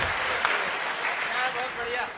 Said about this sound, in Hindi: एक बार जोरदार पूरा सदन दोनों हाथ खड़े करके तालियां बजाइए